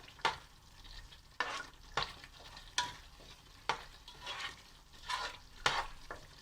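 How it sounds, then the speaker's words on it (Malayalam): Garam masala is mixed into a thick prawn biryani gravy in a pot: a few sharp, separate scrapes and knocks of the spoon over a quiet, low sizzle, close but soft, with no voices. "ഇതും കൂടി ഒന്ന് ചേർത്ത് നല്ലപോലെ ഒന്ന് മിക്സ് ചെയ്തെടുക്കാം"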